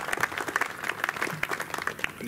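A crowd claps steadily in applause after opening speeches at an open day event, dense and continuous for a couple of seconds, with a few faint voices mixed in.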